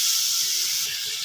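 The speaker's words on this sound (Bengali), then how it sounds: "এখন আমি এর মধ্যে মরিচের গুঁড়া, ধনের গুঁড়া, হলুদের গুঁড়া একসাথে দিয়ে দিলাম, দিয়ে একটু ভালো করে কষিয়ে নেব" Chili, coriander and turmeric powders sizzle while frying in a pan, giving a steady, close, bright hiss that holds evenly throughout without pause.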